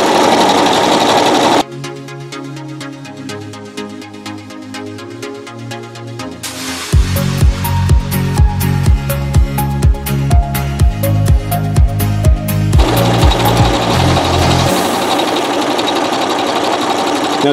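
A sewing machine stitches a decorative mosaic rope bowl, loud and close, in stop-start bursts of rapid mechanical clatter with short pauses between runs, and no voices.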